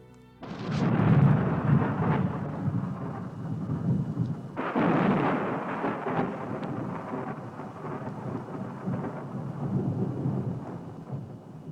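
A thunderstorm with a loud, rolling thunderclap near the start and a second strong rumble midway, then a long fading roll of thunder over steady rain, with no voices.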